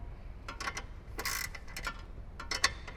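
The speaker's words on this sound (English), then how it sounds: "I can go ahead and finish tightening the bolts down." A ratchet tightens the bolts on a heavy-duty front light mount on a Jeep Wrangler JL, giving short bursts of close, crisp clicking separated by brief pauses.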